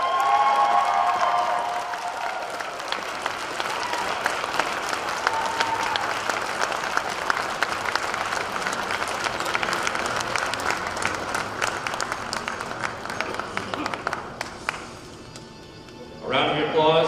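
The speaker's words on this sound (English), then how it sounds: "A round of applause for your 2023 National Collegiate Rifle Most Outstanding Performer." An audience applauds an award winner at the 2023 NCAA rifle championship, a sustained close wash of clapping with a few cheers lasting most of the stretch, fading briefly before resuming near the end, with a voice over it.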